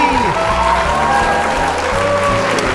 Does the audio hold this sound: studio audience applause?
yes